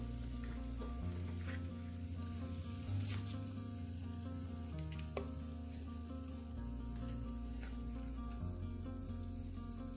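Spicy mutton fry with cilantro sizzles steadily in a pan while being stirred, a continuous close frying hiss with occasional scraping stir sounds and no talk.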